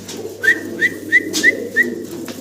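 Pigeons give five short, bright, rising calls at an even pace, one about every third of a second, over a low background hum.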